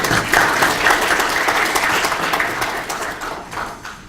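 An audience applauds at a Korean policy forum on a basic law for people with disabilities, a full, sustained patter of many hands that gradually fades toward the end.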